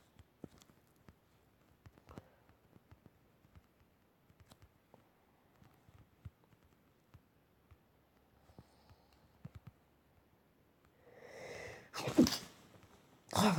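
A single sharp, loud sneeze bursts out near the end after a long stretch of faint taps and rustles in a room during a boat-building challenge game session.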